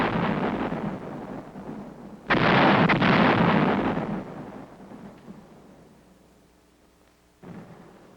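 An artillery barrage pounding enemy hill positions in 1951 Korea: heavy booming blasts rolling into a continuous roar, with a big detonation at about two seconds and another near the end, loud and unbroken.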